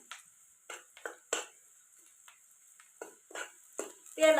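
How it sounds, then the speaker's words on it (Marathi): Ginger and garlic go into hot oil for tempering over a wood-fired stove, giving soft scattered sizzles and spoon scrapes against the pan, fairly quiet and close. "आलं आणि लसूण फोडणीला इथं मी टाकून घेते"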